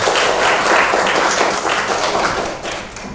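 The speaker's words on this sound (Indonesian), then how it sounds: "Tepuk tangan untuk kita semua." A roomful of seventh-grade students clapping together in a lively burst of applause, loud and close, tapering off toward the end.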